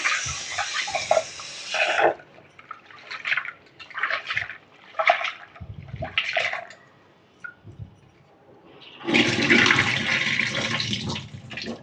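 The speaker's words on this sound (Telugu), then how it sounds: "కందిపప్పు అయితే మూడు సార్లు కడిగానండి" Toor dal (split pigeon peas) is washed in water, with repeated swishing and sloshing rinses, then a longer, louder pour of water at the end, close and without talk.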